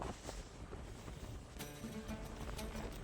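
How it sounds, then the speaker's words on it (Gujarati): Strong wind blows across an exposed hilltop, roaring as continuous buffeting rumble and hiss against the microphone, loud and unbroken with no voices. "આમ આમ ધક્કો મારી દે ને એટલો પવન આવે છે અહીંયા."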